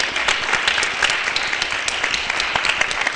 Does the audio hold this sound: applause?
yes